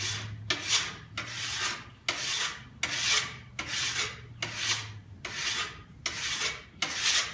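Steady back-and-forth rasping of a hand file along a forged steel knife blank's bevel, working through tough outer scale; about a dozen even strokes, close and loud, with no voices.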